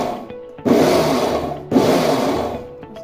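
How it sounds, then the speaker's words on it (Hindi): A kitchen mixer grinder blends garlic, ginger and chilli in two short bursts, each a loud close whirring roar that starts abruptly and then cuts off, with brief quiet pauses around them. "इस प्रोसेस में आपको अपने मिक्सर ग्राइंडर को चलाना है और फिर छोड़ना है।"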